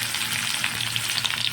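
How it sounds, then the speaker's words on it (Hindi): Chopped onions hiss and crackle as they fry in hot oil in a kadhai, a dense, steady sizzle filling the short stretch with no voices over it. "तो अब हम ये जो हमारी प्याज है वो हम अपनी कढ़ाई में डाल लेते हैं"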